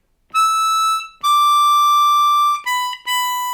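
A G harmonica sounds four clean, sustained single notes alternating between blow and draw, bright and close, each held for about a second with short gaps between them.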